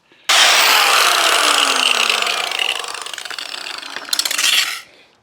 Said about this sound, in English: I'm going to grind off the top of one of these rivets